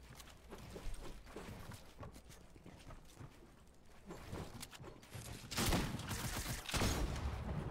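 Gunfire in an online shooter video game, rapid bursts of shots in a busy firefight, growing louder toward the end, with scattered impacts and no talk.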